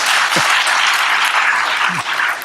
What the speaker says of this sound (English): a round of applause for the community